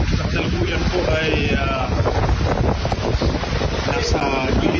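Strong typhoon wind from Typhoon Uwan in Baras, Catanduanes, buffets the microphone as a loud, continuous roaring rush with no letup, and a voice is partly buried beneath it.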